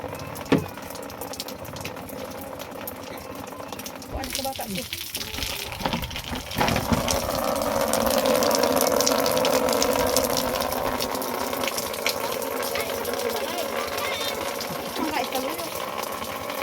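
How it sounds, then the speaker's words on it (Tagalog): Rainwater streams off a thin corrugated metal sheet roof during a downpour, a steady rushing gush that swells in the middle and holds on, with talk over it. "Tanawa ang muagas sa tubig nga gikan sa ilang atop nga silupin lang."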